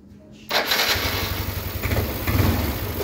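A Yamaha NMAX scooter, repaired after running rough, starts up abruptly and settles into a steady, smooth idle hum that continues evenly for a few seconds, close to the listener.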